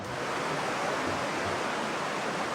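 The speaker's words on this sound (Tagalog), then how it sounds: "malakas din ang pagragasa ng baha sa kalsada" Steady, loud rush of floodwater roaring continuously over a road, a broad wash of turbulent flow with no voices.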